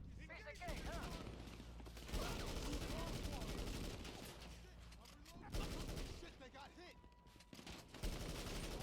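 M16 rifle gunfire in a video game, loud sustained bursts of rapid shots in a few long stretches with short pauses, with faint voice activity underneath.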